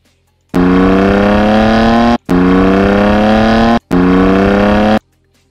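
A BMW S55 engine heard from outside revs in three long, loud bursts, each climbing steadily in pitch before cutting off sharply, with brief gaps between them.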